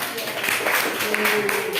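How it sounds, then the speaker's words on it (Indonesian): Classroom applause for a student group after a presentation, a brief, fairly even patter of clapping with voices mixed in. "tepuk tangan untuk kelompok 4"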